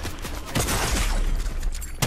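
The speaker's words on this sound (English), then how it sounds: "Stop fucking shooting." Dense, rapid gunfire crackles without a break in a Fortnite match, a loud mix of overlapping shots and blasts with no speech.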